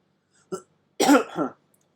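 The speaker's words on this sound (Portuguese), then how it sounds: "Essa tosse é de alguma alergia agora" Two short, husky allergy coughs during a lecture, a brief one followed half a second later by a longer, harsher double cough, close up with silence around them.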